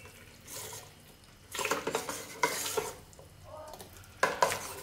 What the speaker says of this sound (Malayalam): ഇപ്പോൾ കണ്ടില്ലേ, നമ്മുടെ അപ്പത്തിൻ്റെ മാവ് ഫെർമെൻ്റ് ആയിട്ട് വന്നിട്ടുണ്ട്. നമുക്കിതൊന്ന് മിക്സ് ചെയ്ത് കൊടുക്കാം കേട്ടോ.